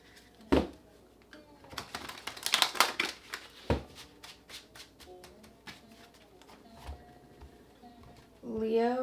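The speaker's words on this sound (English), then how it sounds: "Let's get one more shuffle." Tarot cards being shuffled in a series of quick riffling and slapping bursts near the microphone, some dense clusters and scattered single flicks, with a brief voice at the end.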